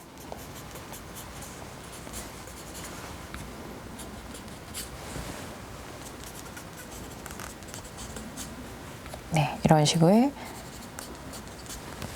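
Pen strokes of Korean calligraphy on paper, a faint continuous scratching under a steady low background, with a brief louder burst near the end where someone speaks a few words.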